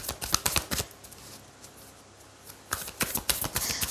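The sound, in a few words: tarot cards being shuffled and drawn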